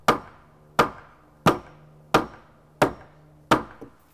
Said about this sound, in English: we're gonna try and just take a hammer, hammer this, get this up a little bit.